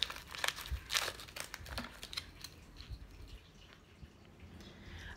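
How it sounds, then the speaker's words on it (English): A plastic garment bag crinkling and rustling as a small toy item is pulled out of it, irregular close crackles, louder at first and then softer, with no speech. "Let's see if we can get this out without ripping our bag all to pieces."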